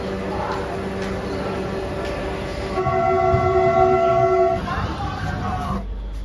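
A passenger train in India heading toward Agra, a steady rolling rumble with tonal whine rising in the middle, heard close from inside a coach, with voices around.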